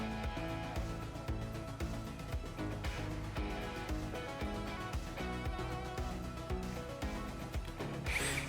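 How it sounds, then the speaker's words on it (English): A power drill drives screws into wooden table boards, its motor whirring in repeated bursts with brief pauses between, close and fairly loud, with a faint creak of wood as the screws bite. "Now we drill some screws and hope the boards don't break."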